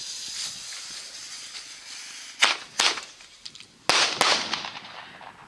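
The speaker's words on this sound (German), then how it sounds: "jetzt die Zündung von dem Flashing Thunder und von dem Flashbang von Weco Feuerwerk gleichzeitig gezündet" Two pairs of sharp firecracker bangs, a Flashing Thunder and a Weco Flashbang set off together, go off a second apart, each crack trailing into hiss over a faint steady background.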